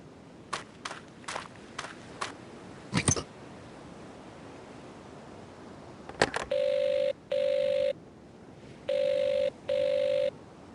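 A telephone rings in the Agatha Christie Evil Under the Sun video game, four steady electronic rings in two pairs following a run of sharp clicks and footsteps, with no one speaking.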